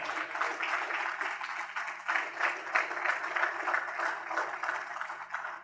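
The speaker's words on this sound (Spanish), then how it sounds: "Denle un aplauso al Señor." Church congregation applauding the Lord, a steady wash of clapping from many hands lasting several seconds, even and fairly close, with no talk over it.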